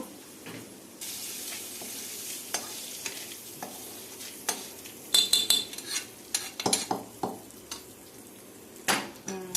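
Tempering spices sizzle in hot oil for a brinjal and tomato chutney, crackling close by while a metal spoon scrapes and clinks against the pan in irregular strokes; no one speaks.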